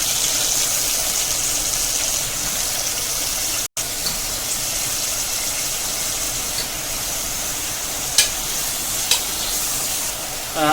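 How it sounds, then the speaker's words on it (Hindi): Continuous sizzling of potatoes and eggplant frying in a pan, a steady crackle with a couple of brief clinks near the end. "इसको अच्छे से भून लेंगे, आलू को और बैगन को"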